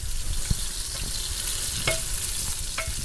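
Chicken and noodles fry in a pan with a steady, hissing sizzle, broken now and then by a few sharp clicks as the food is stirred, heard up close.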